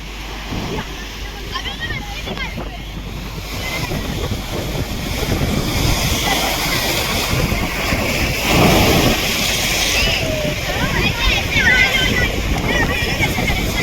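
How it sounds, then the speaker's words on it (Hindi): Sea waves surge and crash at Dona Paula in Goa, a rolling roar of surf mixed with strong wind noise, with people's voices faintly in the background. "ये देखिए कैसे समुद्र की लहरें उठ के आती हैं और लोगों के ऊपर बारिश करके निकल जाती है।"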